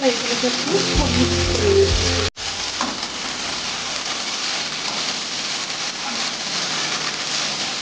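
Boiled pasta tipped into a hot frying pan for a spicy egg pasta, giving a loud steady sizzle throughout with a brief clatter of it landing at the start and a short break partway.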